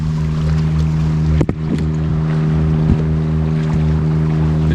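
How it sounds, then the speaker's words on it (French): A boat's engine drones steadily on the sea near a Thai island, a constant low hum with a brief thump partway through. "Le speedboat est juste là-bas."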